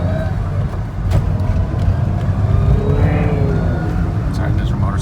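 A 1991 BMW M-Technic convertible's inline six pulls hard in first gear, its steady engine drone climbing in pitch from inside the car, with low road rumble underneath.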